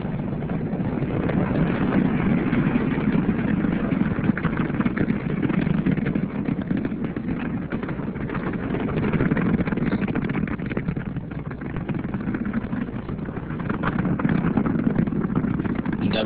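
Space Shuttle Endeavour rising on launch, a dense, continuous rocket roar heard at a distance, steady and rumbling with a slightly muffled, band-limited quality throughout.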